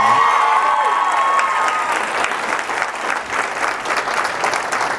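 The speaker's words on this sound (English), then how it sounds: "Round of applause for Jack, man." A comedy show audience applauds at close range, a dense wash of clapping that holds steady for several seconds, with a few scattered cheers mixed in.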